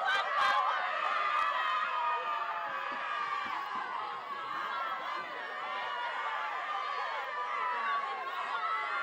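Wilkes-Barre Area Wolfpack cheerleaders and crowd at a high school football game, a steady wash of cheering and chatter, loud and continuous throughout, with brief sharp noises at the start.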